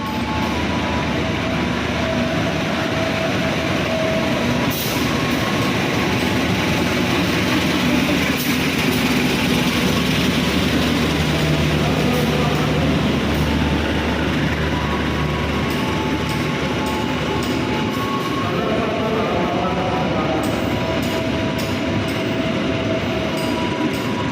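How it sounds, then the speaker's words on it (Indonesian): The Sri Tanjung train runs straight through platform 4 at Solo Balapan station without stopping, a loud, steady rumble of wheels and rolling stock with rhythmic clickety-clack that holds close and unbroken throughout. "Sesaat lagi kereta api Sri Tanjung melintas langsung di jalur nomor 4 stasiun Solo Balapan."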